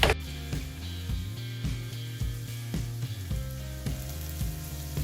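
Ginger hits a hot pan for a vegan tofu scramble, a steady close frying sizzle with periodic soft knocks and scrapes of utensils against the pan, no talking.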